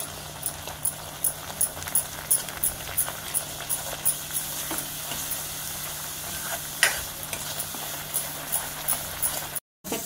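Ground spices (turmeric, red chilli powder and homemade garam masala) dry-roasting in a pan for a dried prawn curry, with a steady faint sizzle and repeated soft scraping strokes of stirring throughout.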